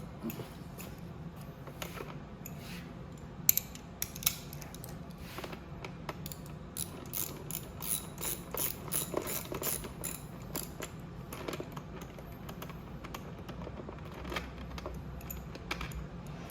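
Wrench work loosening 10 mm bolts from the ignition of a Venom x21 50cc automatic motorcycle: quiet metallic ratcheting and clicking, with small clinks and taps scattered through, close up, no talking.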